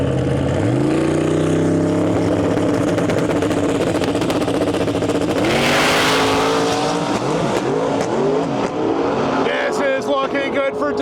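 A drag race car launches down the strip lanes with a loud, close engine roar that climbs through the revs, surges again midway, then recedes as the car pulls away.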